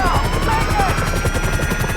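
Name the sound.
helicopter flying in a video game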